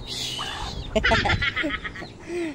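A chicken clucks and calls nearby over steady outdoor background noise, with a few short squawks toward the end.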